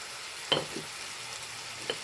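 Egg curry cooking in a pan with ginger has a quiet, steady frying hiss broken by two or three light stirring taps.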